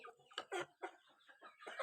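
Hens cluck in short, irregular bursts close by, several birds calling over each other in a quiet setting.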